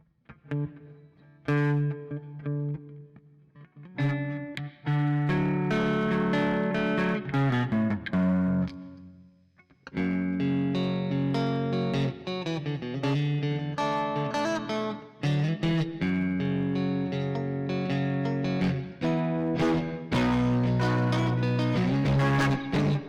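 An electric guitar plays chords and single notes with a sustained, reverberant tone, strummed phrases separated by brief pauses, no voices.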